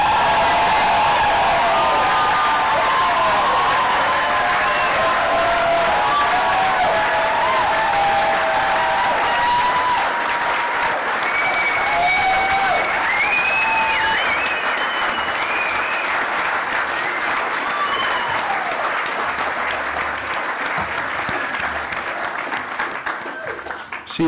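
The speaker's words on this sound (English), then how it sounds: "One last massive round of applause. Lift the roof." Big room of gala dinner guests at a photography awards night breaks into sustained, loud applause with scattered cheers and whoops, a dense roar of clapping that holds steady for the whole stretch and only begins to thin at the very end.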